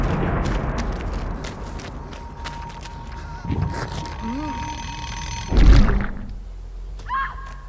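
A timer alarm in the Dead by Daylight video game rings with a steady tone beneath clunks, thuds and game effects, while players talk over it and a heavy thump lands near the end.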